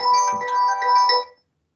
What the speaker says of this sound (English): My phone just went.